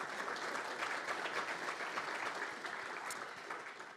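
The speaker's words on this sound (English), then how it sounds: "Let's give them a round of applause." Applause from a conference audience at a rail industry annual conference in London, a continuous, even patter of many hands clapping at moderate distance with no talk over it.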